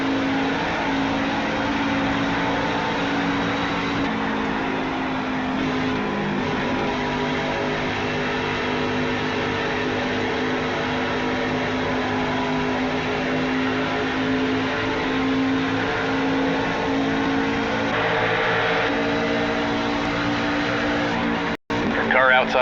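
Stock car engines roaring at speed during a race at Homestead, a loud, steady in-car drone with passing cars and drafting around it, while a spotter and driver talk over radio.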